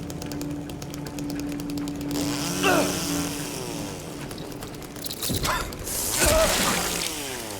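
A chainsaw in the Silent Hill 2 remake video game revs and buzzes continuously and loudly, with rising and falling surges and mechanical clatter across the whole stretch.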